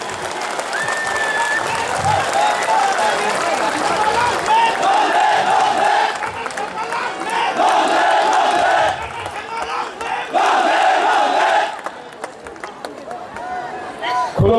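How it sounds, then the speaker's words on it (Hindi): A crowd claps and cheers to welcome a leader onto a stage at a political gathering, loud and continuous with shouted cheers swelling in waves, and voices over a loudspeaker heard throughout. "के स्वागत में तालियों की गरगड़ाहट होनी चाहिए।"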